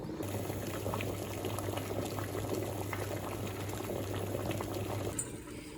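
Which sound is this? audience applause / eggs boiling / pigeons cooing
eggs boiling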